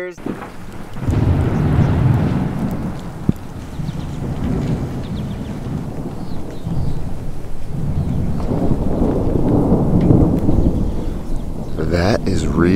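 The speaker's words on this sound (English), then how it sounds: "That is real deal thunder." Thunder rolls and rumbles through a night-long rainstorm, a loud sustained low roar with steady rain and wind underneath, swelling again toward the end.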